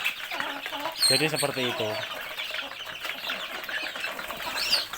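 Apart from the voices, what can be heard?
chickens clucking while scrambling for herbal feed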